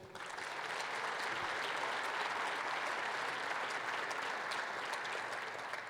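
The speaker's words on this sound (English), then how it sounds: "let's give a great round of applause to our great chairman of the NGA, Governor Hogan." An audience at a National Governors Association winter meeting gives a steady round of applause, dense and even, fading in and out over several seconds with no talk.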